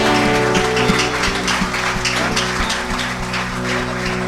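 A church congregation claps for God during a Sunday service, a loud sustained patter of many hands over a steady musical drone, with sharper accented beats recurring throughout.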